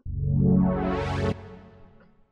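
A synth pad made in Reason sounds one sustained harmonic note as its filter sweeps open from dark to bright, then cuts off sharply and leaves a fading tail.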